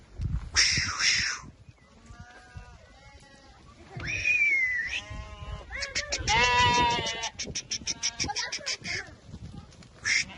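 Many lambs bleating in a flock, overlapping high-pitched cries close by, some calls long and wavering, with brief gaps between bursts.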